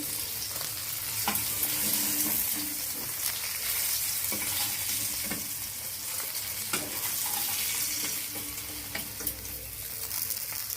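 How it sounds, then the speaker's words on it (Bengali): Pabda fish frying in hot oil in a wok, giving a steady, close sizzle with crackles that runs unbroken for the whole stretch, with no voices. "বাকি মাছগুলো এভাবে ভেজে নিব কড়াইতে দিয়ে দিচ্ছি"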